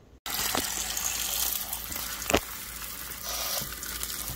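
Blueberries rinsed under a running kitchen tap, a steady close splashing gush of water with brief louder spatters, alone without talk.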